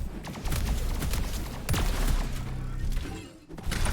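Rocket blasts and explosive impacts in a fast duel match of an arena shooter, several heavy thuds and bursts close together, loud and dense with weapon fire.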